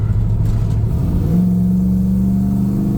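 A 1969 Camaro Super Sport accelerates at full throttle from about 45 mph. The deep engine roar rises in pitch as it pulls hard, loud and close from inside the car.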